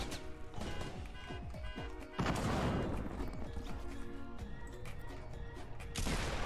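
Gunfire in the Fortnite battle royale video game: rapid bursts of shots and crashing impacts, loud and dense, with a sharp louder burst partway through.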